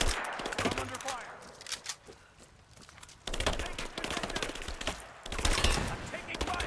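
Gunfire in Rise of the Tomb Raider crackles in dense, rapid volleys, with a loud opening stretch, a quieter lull, then heavy bursts resuming, and shouting soldiers mixed in.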